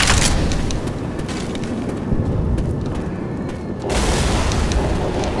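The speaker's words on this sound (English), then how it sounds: "Throwing a Molotov." A Molotov cocktail bursting into fire in Left 4 Dead 2, a loud, sustained roaring blast of flame that dips briefly near the end and then swells again, with no talking.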